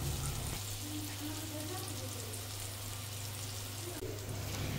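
Eggplant slices frying in a pan for begun bhaji give a steady, close sizzle that runs without a break from start to finish, with a low hum underneath.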